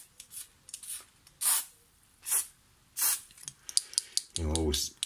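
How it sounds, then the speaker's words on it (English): Contact cleaner is sprayed into the switches of a Teac 144 tape deck in short, sharp hissing bursts, several separate squirts close by, with a low buzzing clatter near the end. "Yeah, I would get some contact cleaner."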